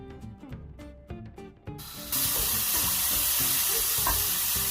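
Mushrooms and pancetta fry in butter with a spoon stirring them, first as scattered scraping strokes and then as a loud, continuous sizzle that fills the rest of the clip, with no voices.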